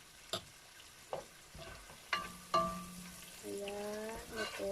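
Pork caldereta stirred in a frying pan, with a spoon scraping and clinking a few times over a steady sizzle that rises toward the end.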